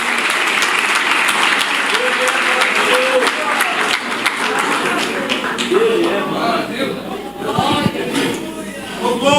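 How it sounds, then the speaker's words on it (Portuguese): A church congregation applauds in praise, a dense steady roar of many hands clapping throughout, with voices calling out and faint cheers mixed into the clapping. "Aplauda o nome de Jesus"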